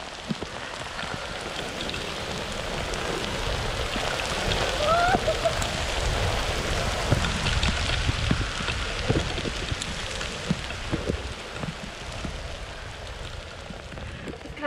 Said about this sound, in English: The lightning was super close, and then it poured.